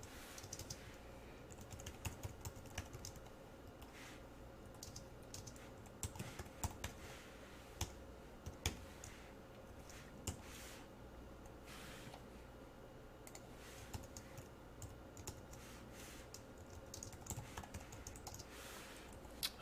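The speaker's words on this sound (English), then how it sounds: "as I'm typing this" Quiet, continuous typing on a computer keyboard, with rapid irregular key clicks close by and no speech.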